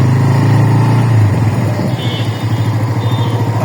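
A Bajaj Pulsar N160 motorcycle on the move, its loud, close engine drone dropping in pitch as the rider shifts, then carrying on at a steady rumble.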